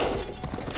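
A horse in the video game The Legend of Zelda: Breath of the Wild makes brief close hoof clip-clops and a short whinny-like snort, heard alone with no talk.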